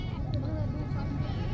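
At a crowded goat market, a goat gives a short wavering bleat under steady crowd noise and someone speaking close by.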